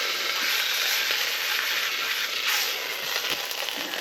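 Beef sizzles loudly as it sears in a pot for beef burgundy, a dense continuous hiss with a slight swell partway through as the meat is turned.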